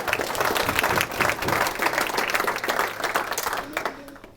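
Dinner-event audience applauding, a steady patter of many hands clapping close by for about four seconds before tapering off.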